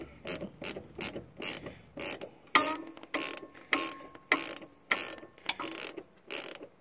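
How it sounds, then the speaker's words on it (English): Ratcheting wrenches undoing a shock mount on a 1997 Honda Civic EK make a rapid series of sharp metallic clicking bursts, close and crisp, repeating in an even back-and-forth rhythm with brief pauses between strokes. "I do love these wrenches because that way you're not just constantly taking off, putting back on"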